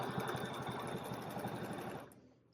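A sewing machine quilting a feather pattern, its rapid rhythmic needle stitching loud and close, then stopping abruptly near the end.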